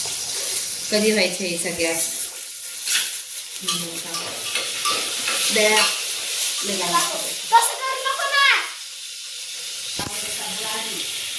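Onion frying in a pan for matki rice, a steady close sizzle and hiss with occasional stirring, while people talk over it throughout.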